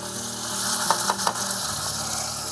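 Onion and tomato frying in oil in a pot over a village wood fire, with a steady sizzle and a few brief scraping stirs of a utensil.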